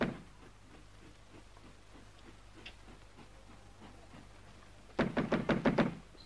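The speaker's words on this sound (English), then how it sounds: "It's no use knocking." A door is knocked on in a quick run of sharp raps near the end, following a stretch of quiet room hiss.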